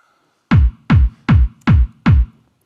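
A plain electronic kick drum with no added transient hits five times at a steady pace, each a deep, booming low thump with a soft, rounded attack and a short tail.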